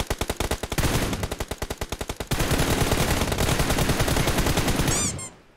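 Video game gunfire in PUBG: rapid close bursts of automatic shots, first distinct pops then a dense continuous rattle, loud, ending with a whine-like tail.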